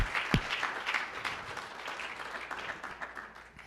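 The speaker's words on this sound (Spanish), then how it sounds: "¿Cuánto le pueden dar un fuerte aplauso al Señor?" Church congregation applauding during a Spanish-language sermon, a dense burst of clapping that starts loud with a sharp thump and gradually fades over nearly four seconds.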